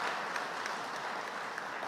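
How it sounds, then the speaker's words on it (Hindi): An audience applauds at a seed-village launch event in Minto Hall, Bhopal: a steady, dense wash of clapping from many hands holds at an even level throughout, with no voices over it. "उनका एक बार ताली बजा के स्वागत कीजिए।"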